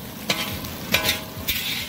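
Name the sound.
onions frying and being stirred in a pan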